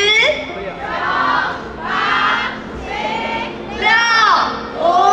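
A film premiere audience shouts a countdown in unison, loud and close, in rhythmic bursts of massed voices that swell and fall roughly once a second.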